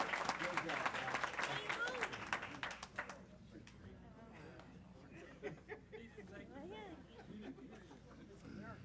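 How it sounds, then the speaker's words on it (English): Audience applause at a police jury meeting, a busy burst of clapping for about three seconds that fades into murmuring chatter and light laughter. "let's give them another big round of applause."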